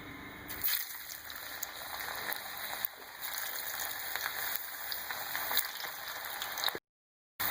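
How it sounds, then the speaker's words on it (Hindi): Round potato slices for crispy homemade chips sizzle in hot oil on a low flame, a steady close-up crackling hiss that runs without a break before cutting out just at the end. "देखिए फ्राई हो रहे हैं।"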